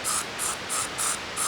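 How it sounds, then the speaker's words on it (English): Bug spray from an aerosol can on a hike, five short rhythmic hissing bursts in quick succession, close and clear with steady background noise between them. "Got the bug spray here."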